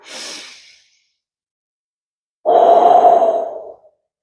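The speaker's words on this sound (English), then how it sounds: "take a deep cleansing breath" A deep cleansing breath taken close up: a brief inhale, a pause of silence, then a long, loud, breathy exhale lasting over a second.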